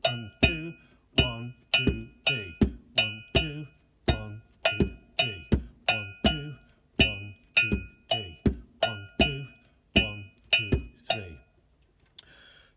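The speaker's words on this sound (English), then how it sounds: "because we've reversed the cowbell pattern, the clave, it will start against the conga pattern" A steady percussion loop of sharp, bright cowbell strikes playing a reversed clave pattern over congas in a syncopated rhythm, repeating about a dozen seconds before stopping.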